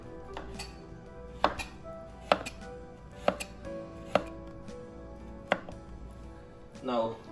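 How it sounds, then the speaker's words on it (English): A knife slices garlic thinly on a cutting board with firm, evenly spaced chops about once a second. The strokes sound close and clear over a faint background hum. "First thing first, we're gonna slice our garlic"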